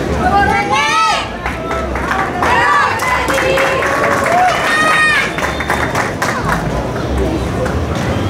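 Loud, steady crowd applause and cheering with whistles at the coronation of a young escaramuza charra rider as festival queen, continuing throughout with an announcer's voice over it.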